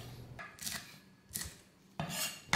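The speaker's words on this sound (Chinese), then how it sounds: "1小块的生姜切片" A knife slices a small piece of fresh ginger on a board while spices are prepared for a Malaysian vegetable curry, giving three separate crisp cutting strokes with quiet pauses between them.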